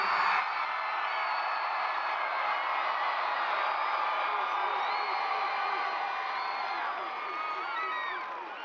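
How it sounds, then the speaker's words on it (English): A church congregation claps and shouts together, a dense sustained roar of voices and hand claps with whoops rising through it, heard at a moderate distance throughout. "Clap your hands and shout unto God."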